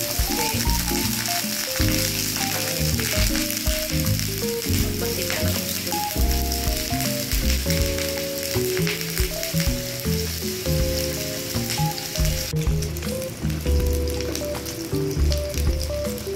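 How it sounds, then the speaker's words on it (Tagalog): Hotdogs fry in a little cooking oil for breakfast, sizzling and crackling steadily and close up throughout. "Magluluto tayo ng hotdog. Kunti lang yung mantika."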